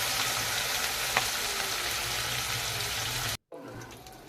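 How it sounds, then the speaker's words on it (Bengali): Pieces of rohu fish fry in hot oil with a steady, dense sizzle, close and loud. A brief dropout comes near the end, then the frying carries on. "মাছগুলোকে একে একে তেলে ছেড়ে দিচ্ছি, দিয়ে লাল লাল করে ভেজে নিতে হবে"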